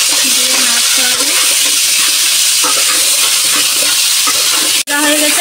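Loud, steady sizzling of pointed gourd frying in oil in a pan, with salt and turmeric added and a utensil stirring, scraping and clinking through the hiss, close and alone without talk.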